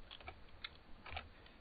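Soft, sparse typing on a computer keyboard, a handful of separate key taps and a short cluster of clicks in a quiet room.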